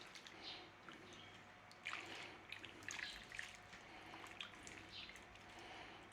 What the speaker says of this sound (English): we just need to give them a little bit of a rinsing off